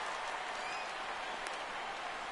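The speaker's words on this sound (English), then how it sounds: "he'll get himself a nice little ovation for the work he's turned in on the mound so far" Crowd applause rising for a pitcher at a baseball game in a PS4 baseball broadcast, a steady wash of distant clapping and cheering that holds evenly throughout with no clear break.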